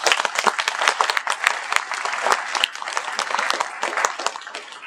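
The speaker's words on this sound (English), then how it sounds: "So let us give them a round of applause" Audience applause at an evening event at the San Diego Supercomputer Center, dense steady clapping from a sizable crowd lasting the whole stretch, with no speech over it.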